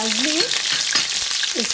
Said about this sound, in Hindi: इसको फ्राई कर लें।